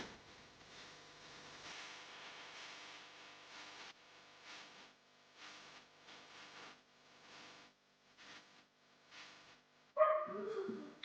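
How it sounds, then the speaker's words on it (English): A husky barks outdoors, heard through a window as a string of muffled, fairly distant barks in bursts over several seconds, with a louder close clatter at the end. "my little husky keeps barking."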